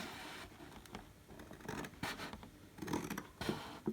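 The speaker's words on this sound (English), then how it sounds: "now I'm going to just trim the whole box down" Blade trimming down a cardboard box: faint scratchy cutting strokes and scraping rasps in short, uneven bursts, close up and quiet, no talk.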